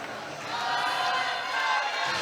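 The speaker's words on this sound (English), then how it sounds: "A big roar from the crowd behind us as our MC calls Antonio Louca out to the cage." A crowd roars and swells as an MMA fighter is called out to the cage, a broad distant rumble of cheering that builds in the middle and holds steady.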